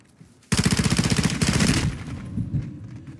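Automatic gunfire in Call of Duty rips out as a loud, close, sustained burst of rapid evenly spaced shots lasting over a second, followed by a decaying rumble and a few scattered impacts.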